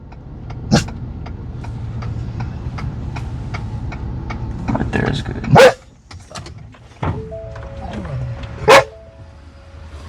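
A dog barks in a few sharp, loud bursts near a parked car while a man moves about nearby, with brief rustling and a faint hum between barks.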